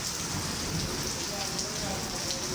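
Heavy storm rain pouring steadily over Karachi, a dense, continuous hiss of drops hitting surfaces nearby, loud and unbroken from start to finish.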